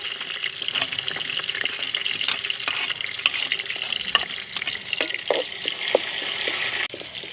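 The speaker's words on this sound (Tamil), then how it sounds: "கடுகு எல்லாம் எங்களுக்கு வெடிச்சிட்டுது." Mustard and fennel seeds spluttering in hot coconut oil, a steady loud sizzle broken by sharp pops and crackles throughout.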